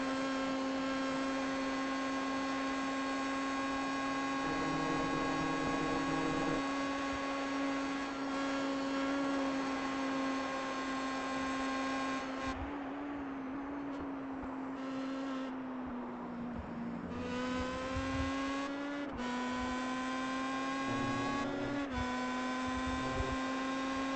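Onboard engine sound from a race car lapping Phillip Island circuit in a SMAC championship round: a steady, loud motor drone with rising and falling pitch through gear changes and corners, continuous with no talk.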